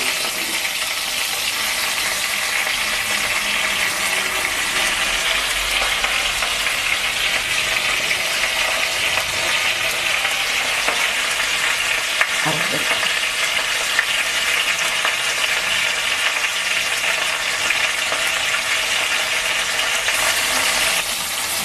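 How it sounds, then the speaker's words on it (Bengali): Hilsa fish heads fry in a pan for a Bengali dish with taro leaves, a steady close crackle and sizzle of hot oil that continues evenly throughout, with a brief clatter partway. "মাথাগুলো ভাজা হয়ে এসছে"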